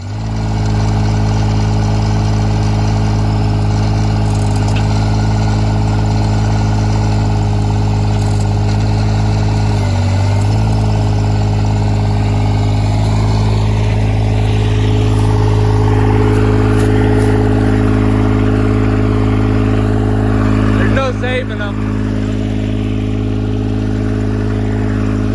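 A John Deere 430 diesel tractor engine runs steadily at a loud, close, constant drone, with a brief dip near the middle and a slight change in load toward the end, no voices.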